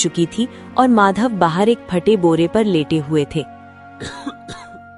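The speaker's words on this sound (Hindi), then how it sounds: "अरे ओ बुड्ढे, कितनी बार कहा है कि ये खांसना बंद कर।" An old man in an animated Hindi story gives a few rough, short coughs near the end, after a narrator speaks over most of the clip.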